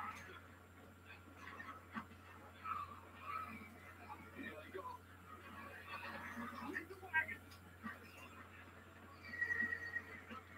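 A horse neighs and whinnies amid a zombie scene in a TV drama, heard faintly under steady talk and background noise with repeated agitated cries.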